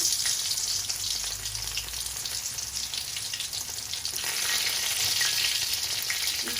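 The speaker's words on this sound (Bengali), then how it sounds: "ওই তলার মাঝেও আমি একটু বাগার দিলাম। দিলাম রসুন," Garlic tempered in hot oil for a Bengali home-style vegetable dish gives a dense, continuous sizzle and crackle that stays close and fairly loud throughout, with no voices.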